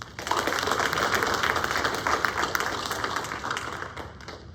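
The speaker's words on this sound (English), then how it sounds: "So just give her another applause." Steady applause from an audience at a school board meeting, a dense wash of clapping that stays loud and even for several seconds before easing slightly at the end, with no voices over it.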